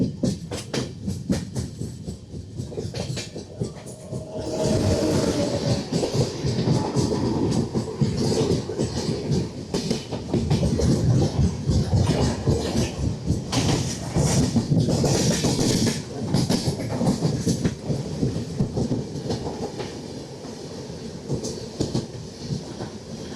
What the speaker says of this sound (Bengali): এটা হচ্ছে গিয়ে 12-378 পদাতিক ক্রসিং